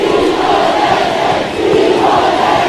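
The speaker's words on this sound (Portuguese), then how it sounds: "E a torcida vai à loucura no estádio municipal em Dili com essa jogada perigosa." Stadium crowd roaring at a football match between Timor-Leste and Portugal at the municipal stadium in Dili, a loud sustained wall of cheering and shouting that dips briefly before surging again.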